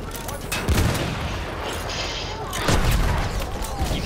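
Field gun and tank cannon fire in a war video game, two heavy booming shots about two seconds apart with rumbling tails over background battle noise.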